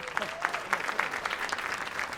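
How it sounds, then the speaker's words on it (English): A room of attendees at a graduation-focused summit keynote claps in a brief, steady round of applause, moderately loud and even, with a faint voice briefly over the start. "Let's give them a round of applause for all their hard work."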